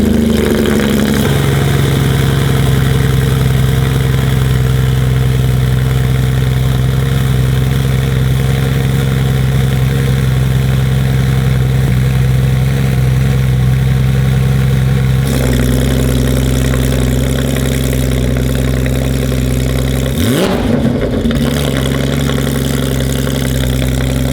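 A Porsche 911 GT3 (992) engine idles steadily and loud after a cold start, a low rumbling drone with a brief blip of revs near the end; no voices.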